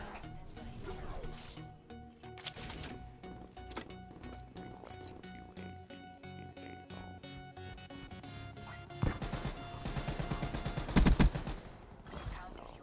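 Gunfire in the Black Ops 3 video game: a steady run of rapid shots and fusillade bursts, growing denser and louder toward the end, with quieter game noise in between.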